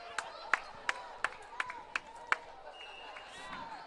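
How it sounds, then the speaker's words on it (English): Sparse claps ring out from the crowd at a college volleyball match at set point, seven sharp evenly spaced hits that stand out over the gym's background murmur. "Get those hands clapping there"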